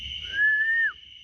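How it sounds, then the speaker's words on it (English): A single clear whistle, one steady tone lasting about half a second that dips slightly at the end, heard over a faint background. "I just heard a whistle."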